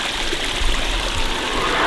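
Mountain water running steadily from a street fountain, a continuous close splashing trickle heard on its own.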